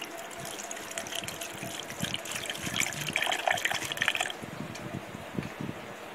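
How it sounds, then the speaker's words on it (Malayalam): Water poured into a blender jar over carrot pieces for a carrot lime juice, a steady splashing trickle up close that swells in the middle and then eases, with no talking. "ഇനി വെള്ളം കൂടി ഒഴിക്കുന്നു."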